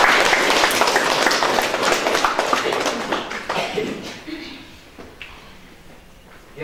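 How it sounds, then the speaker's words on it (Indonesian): A room full of people at a Holy Communion celebration claps for the parents, a dense burst of applause that fades over several seconds, with voices mixed in. "saya pikir kita perlu tepuk"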